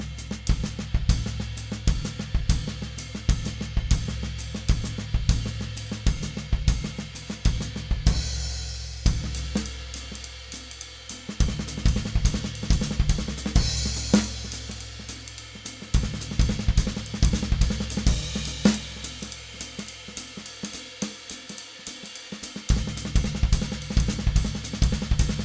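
Jazzy triplet phrase in 3/4 played on a drum kit, the right hand staying on the ride cymbal instead of returning to the snare, a steady swinging pattern of shimmering cymbal strokes with kick and snare accents, close and clear without talk.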